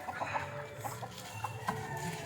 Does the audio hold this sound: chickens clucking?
yes